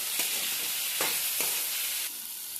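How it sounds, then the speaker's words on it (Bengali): Fried fish and fried spices being stirred in a pan for a fish-head moong dal, giving a steady close sizzle with three distinct scraping stirs, the sizzle softening near the end. "মশলা ভাজা হয়ে গেছে, মাছ ভাজাগুলো দিয়ে একটু নেড়ে চেড়ে নেব।"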